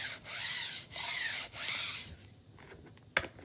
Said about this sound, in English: And I'm rubbing it with the grain of the wood.